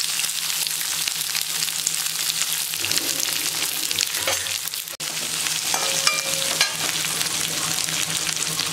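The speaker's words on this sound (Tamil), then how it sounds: "வெங்காயம் மிளகாய் நல்லா வணங்கிட்டு இருக்குங்க" Chili, onion and garlic fry in hot oil, giving a steady, dense sizzle that stays loud and close throughout, broken by occasional scrapes of a stirring utensil.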